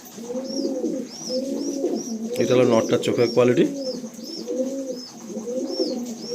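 Pigeons coo steadily in a loft near an airport gate, the repeated throaty calls rolling close by with a rustle of wings midway, while someone talks over them.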